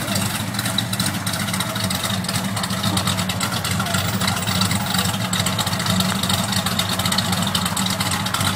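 A 1967 Chevelle SS 396 V8 idles at a swap meet with a steady, continuous low rumble that holds evenly throughout.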